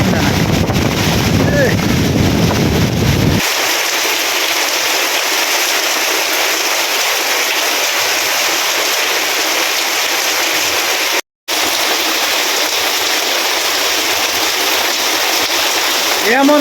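Strong storm wind roars steadily against the microphone, a dense continuous rush with a brief dropout partway through.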